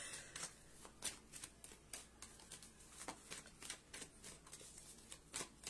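Tarot cards shuffled close by in a quiet room, a steady run of soft riffling flicks and slaps repeating about twice a second, faint and alone without talk.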